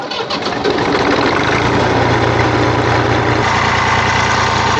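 A Massey Ferguson 231 tractor engine idles through a new OEM muffler, a loud, steady mid-to-low rumble that stays even and smooth from start to finish, close by and alone.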